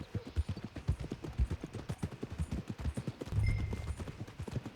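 Horse hooves clip-clop steadily on the ground in Red Dead Redemption 2, a close, even rhythm of soft thuds that continues throughout, with a brief low rumble near the end.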